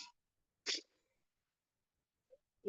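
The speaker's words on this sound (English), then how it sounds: "Sorry, I'm sneezing." A single sharp sneeze in a quiet room, preceded by a short breath and followed by a faint sound near the end.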